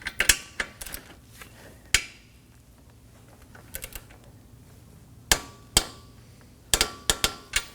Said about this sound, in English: Now we're going to torque this down to 192 inch-pounds.